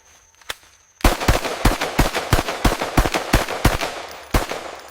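After a single early crack, a rapid, uneven burst of about a dozen sharp gunshots rings out close and loud in a jungle, then stops.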